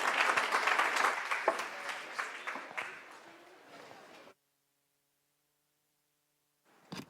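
Audience applause at a climate and water panel discussion, a dense wash of clapping for about four seconds that thins out and stops, followed by silence and a brief sound at the end.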